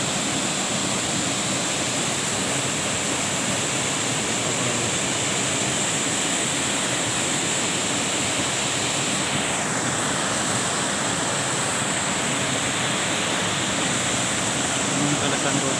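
Rushing water of a waterfall where people bathe roars as a constant, dense broadband wash, loud and unbroken across the whole stretch, with nothing else standing out.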